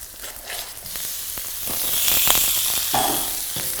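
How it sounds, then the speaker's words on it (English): Steak sizzles with onions in a hot frying pan, a close, bright crackling hiss that swells louder midway, with scattered pops and light utensil scrapes. "And then I'm going to put my steak in there."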